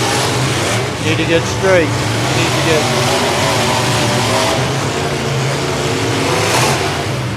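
Demolition derby cars revving their engines in an arena in Dunbar, Pennsylvania, a loud, continuous mid-pitched engine roar with surging revs while a voice talks over it.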